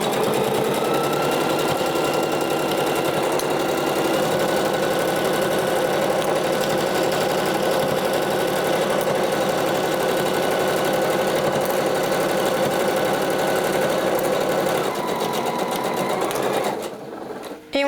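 A sewing machine runs continuously, stitching the sleeve of an Eloane sweater with a fast steady mechanical whir and rattle for about sixteen seconds, then slows and stops, close up with no talking.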